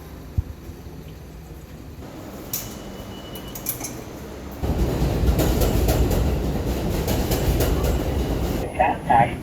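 A train rolls along its rails with a low rumble and clatter that rise and hold steady, while faint voices and a brief beeping signal come through at the end.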